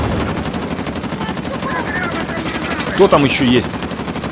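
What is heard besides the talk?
machine gun fire in the video game Uncharted: The Lost Legacy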